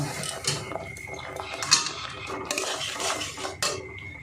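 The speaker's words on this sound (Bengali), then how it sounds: "দেখুন বন্ধুরা, মশলাটা কষানো হচ্ছে, মিডিয়াম টু লো আছে" A metal spoon scraping and clinking in a pan as spice paste (masala) is stir-fried over medium-low heat for a potol and peanut curry, irregular scrapes and taps close by with a soft background hiss.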